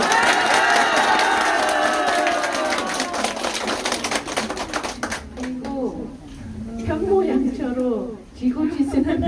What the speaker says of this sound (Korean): 큰 박수 하나 해주십시오.